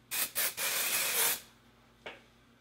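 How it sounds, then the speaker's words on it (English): Jet Set Invisible Powder Spray, a floral makeup setting spray, gives three quick close hissing bursts and then a longer steady spray, followed by silence and one short faint puff. "I almost forgot to try the flower setting spray, Jet Set Invisible Powder Spray."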